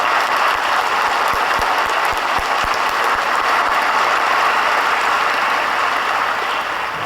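A large audience at the Cherry Hill High School East 2025 graduation ceremony applauds steadily, a dense, loud wash of clapping that carries on unbroken for several seconds without talk.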